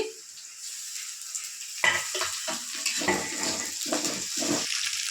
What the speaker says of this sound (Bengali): এখন আমি এই যে বাটা মশলাটা দিয়ে দিচ্ছি